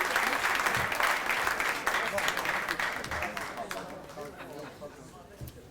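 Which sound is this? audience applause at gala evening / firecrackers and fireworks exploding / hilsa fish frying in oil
audience applause at gala evening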